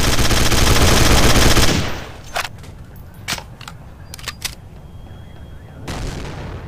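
A grenade explodes amid gunfire in the video game Counter-Strike: Source: a loud, sustained blast roar gives way to a scatter of sharp, separate gunshots, close and punchy.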